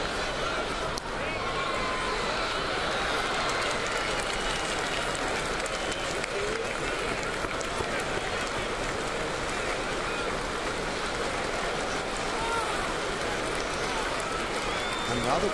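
A big crowd at a Friday day game at Yankee Stadium, Toronto visiting New York, roars in a continuous dense wash of cheering and murmur, loud and steady throughout.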